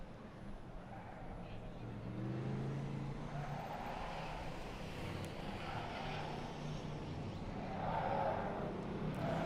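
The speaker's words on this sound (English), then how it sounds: "Monster Energy Nitto Tire Ford Performance Mustang RTR Spec 5D" A Ford Performance Mustang RTR Spec 5D drift car on a Formula Drift track at Long Beach, a fairly faint, sustained engine roar rising and falling as it runs, with a commentator talking over it.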